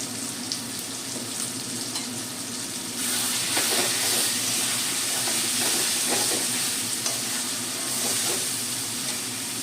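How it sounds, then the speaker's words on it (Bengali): A spice paste with cumin and coriander powder sizzles and hisses in a pan as it is stirred, continuous and close, louder after a few seconds as stirring scrapes come through. "সামান্য জল দিয়ে আমি মশলাটা কষে নেব"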